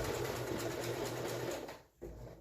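A sewing machine stitches a quarter-inch seam on a fabric face mask, a rapid steady whirring run that cuts off abruptly near the end, then restarts briefly.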